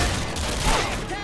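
Loud, dense bursts of pump shotgun fire in Modern Warfare 2 crackle through the whole stretch, with shots overlapping and a voice faintly underneath.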